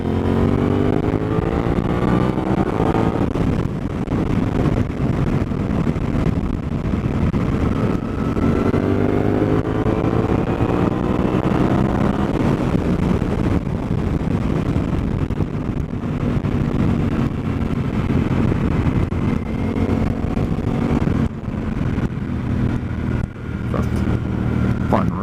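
Suzuki DL-800 motorcycle engine on a test ride, a steady loud drone with rising and falling pitch as it accelerates and shifts, mixed with constant wind rush across the microphone, no talking.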